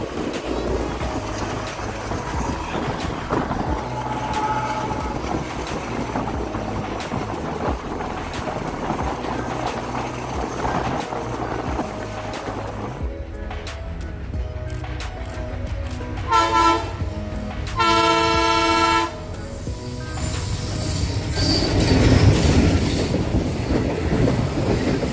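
The Quilon Mail passenger train runs on rails near Kollam, a loud, continuous rumble of wheels and wagons with rhythmic clickety-clack and rattling bursts, heard from on board and close throughout.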